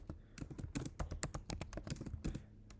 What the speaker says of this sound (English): So I will type in this code